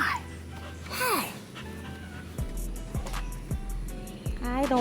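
A dog at an outdoor car show whimpers with rising yelps and pants faintly over steady crowd murmur and people talking, while sharp low thumps and repeated bright clicks punctuate the background.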